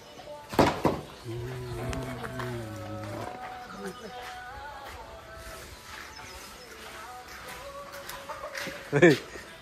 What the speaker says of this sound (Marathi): कोंबडीनं अंड घातलेलं आहे.